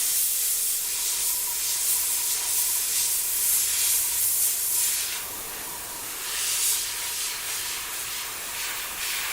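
An airbrush sprays a final coat of Alpha Air paint, a loud, close, steady hiss that swells and fades in bursts, dipping briefly near the middle before resuming.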